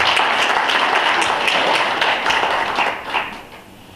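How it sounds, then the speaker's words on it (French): A hall audience at a cinema event in Cameroon applauds to welcome a prefect, with a brisk burst of clapping that holds for about three seconds and then fades quickly. "Est-ce qu'on peut applaudir également pour sa présence?"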